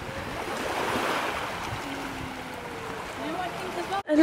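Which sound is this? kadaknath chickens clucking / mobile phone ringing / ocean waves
ocean waves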